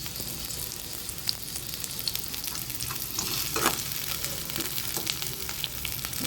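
Onions frying in oil that was already in the pan, a steady dense sizzle with occasional stirring scrapes and pops, close and continuous with no voices.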